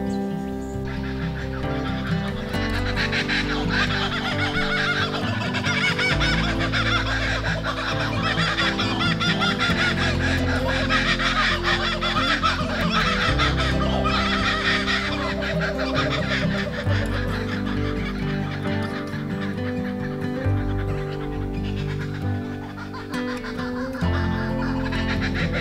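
Birds call continuously in the bush at dusk, with layered honking, fowl-like cries over a dense, steady background chorus that stays loud throughout with no talking.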